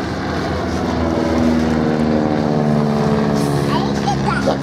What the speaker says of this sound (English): that classic sound of a biplane in flight